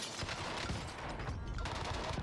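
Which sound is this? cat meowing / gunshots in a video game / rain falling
gunshots in a video game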